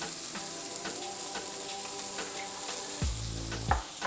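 Browned onion and cabbage sizzle steadily in a pan as meat is added, with a constant close crackle and a few brief scraping stirs near the end.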